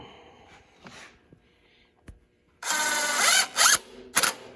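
A power tool runs down the head gasket bolts on an Allis Chalmers engine, with loud whirring and ratcheting bursts in several short pulses near the end after quieter handling clatter.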